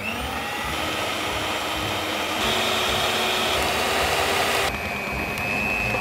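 A Samu Giken stand mixer works bread dough of yeast and flour at its lowest speed, giving a steady, moderately quiet whirring motor hum that shifts pitch slightly a couple of times, heard alone without speech.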